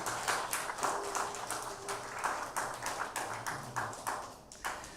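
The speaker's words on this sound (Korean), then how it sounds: "은혜로운 찬양해 주신 성가대원들에게 다시 한번 감사의 박수하겠습니다." Church congregation applauding at a Sunday service to thank the choir after their hymn, a steady scattered patter of many hands clapping at moderate distance, with no talk.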